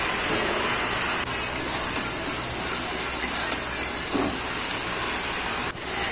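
Taro (ghetkol) greens frying with turmeric and salt, heard as a steady near hiss and sizzle that runs unbroken with a few faint clinks, with no talking.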